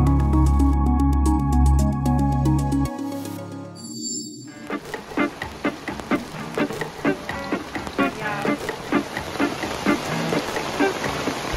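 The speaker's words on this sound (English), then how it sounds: "it is raining so badly" Heavy rain beats on a Shady Boy camper awning, a steady dense patter with close, sharp drop hits that follows a brief tonal noise at the start.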